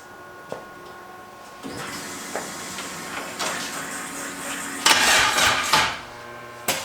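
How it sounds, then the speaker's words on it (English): A big-turbo LS-swapped Mustang engine cranks on its starter in bursts, with uneven mechanical whirring and hiss that rises to a louder, rougher stretch near the end, heard close up without talk. "It did a little cranky crank, so we're gonna try it again."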